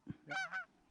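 A goose honks once in a short two-part call during goose hunting in North Dakota, fairly faint, as if from an incoming flock at a distance, alone with no talk.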